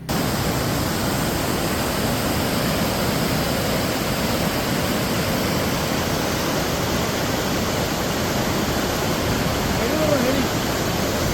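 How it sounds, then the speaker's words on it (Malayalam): A waterfall in Kerala roars continuously, a dense steady rush of falling water that stays loud and unchanging throughout, with no other sounds standing out. "അടിപൊളി വെള്ളച്ചാട്ടം എന്ന് പറഞ്ഞാൽ അടിപൊളി വെള്ളച്ചാട്ടം"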